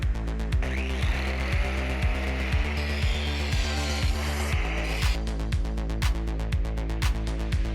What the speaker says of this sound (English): I'm gonna go ahead and take this burr off of this